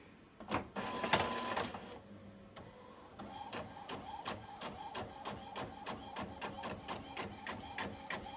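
An inkjet printer feeds and prints a Siser EasySubli heat transfer vinyl sheet, starting with a loud pickup whir, then a steady run of rhythmic clicks as the print head shuttles back and forth.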